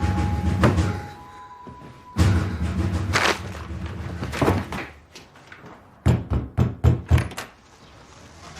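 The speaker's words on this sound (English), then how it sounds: "knocking on the door asking that they go for a walk" Knocking on a door in the comedy series Wilfred, a quick run of several sharp raps near the end, following muffled thumps and background sounds.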